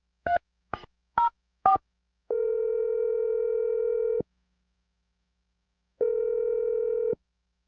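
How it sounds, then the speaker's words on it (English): Four quick dialing beeps, then two long steady ringing tones separated by a pause of silence. "We're going to dial her phone number right now."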